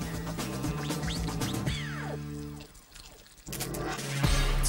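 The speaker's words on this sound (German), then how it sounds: "gießt die Kräuterbutter über den Braten" Herb butter is poured over a roasted saddle of venison in close, quiet sizzling drips and trickles, the liquid spattering in short bursts, then a brief lull before a louder splash at the end.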